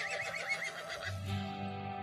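A horse whinnies in the mobile survival game Westland Survival, a wavering neigh followed by a lower snorting tone, fairly faint and alone with no speech.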